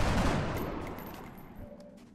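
A soldier's gunshot in the video game XCOM: Enemy Within rings out as a sharp, loud burst at the start, then its rumbling echo decays over about two seconds, alone without talk.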